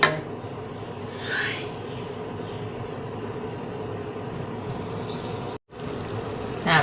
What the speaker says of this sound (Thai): เราก็ผัดกะทิจนถึง ทั่วเนื้อข้าวหมดแล้ว